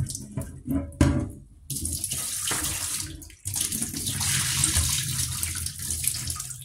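Tap water runs and splashes into a sink while meat from a supermarket is rinsed, a steady close rush broken by brief interruptions and changes as the flow hits the meat and basin.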